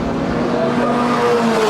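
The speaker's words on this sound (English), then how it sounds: "Car not sounding good." A Formula Ford 1600 race car at a historic circuit festival drones steadily and loudly, with a rough, uneven engine note held throughout and no talk.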